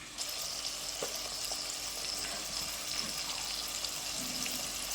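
Crushed country garlic sautéing in a pan for fish curry gives a steady, close sizzle with a watery hiss throughout and a few faint clicks of stirring.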